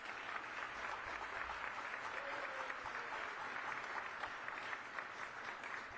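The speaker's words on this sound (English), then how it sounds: "please give him a round of applause" An audience at a government budget announcement applauds a newly hired doctor, a sustained, even wash of clapping from a large crowd at moderate level.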